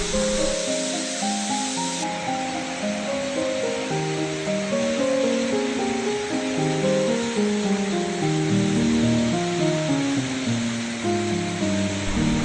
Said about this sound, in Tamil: பன்றிமலை தொடர்ச்சியில் இருக்கக்கூடிய புல்லாவெளி அருவி.